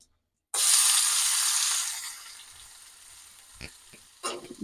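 Chopped onion and garlic paste hit a hot oiled pan with a sudden loud hiss that slowly fades into steady frying, with a couple of sharp utensil clicks near the end.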